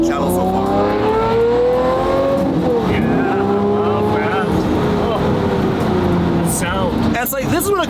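A loud supercar engine revs and roars steadily, its pitch rising and falling, with a voice talking over it throughout.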